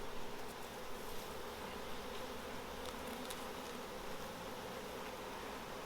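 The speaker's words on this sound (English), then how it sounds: "The bees are actually attacking my fingers." Honey bees buzz in a dense, continuous drone around an open hive, a steady swarm of overlapping wingbeats with individual bees passing close, faint and alone.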